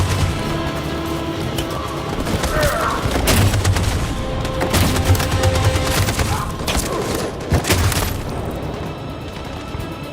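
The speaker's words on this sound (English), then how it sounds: "That machine gun is taking down everything that moves!" Machine gun fire rattles in rapid bursts in a war video game, mixed with heavy booms and crashing impacts, loud and close, with brief shouted voices in the chaos.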